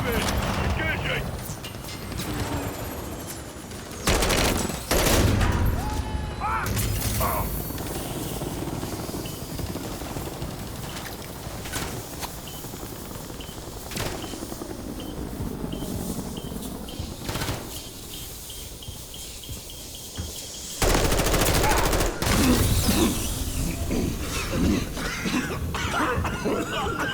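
Gunfire aimed at a helicopter in Call of Duty MW3, with sharp bursts of shots cutting through a steady rotor drone and battlefield noise, while voices talk over the action.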